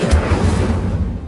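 An Incendio fire spell is cast in Hogwarts Legacy, a short whooshing burst with a low booming body that fades over about a second.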